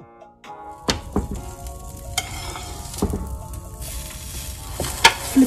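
Sandwich toasting in butter on a hot tawa, a steady sizzle with several sharp thunks and scrapes from the spatula as it is placed and pressed, close and alone without talk.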